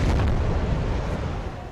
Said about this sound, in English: an Israeli airstrike hits a single building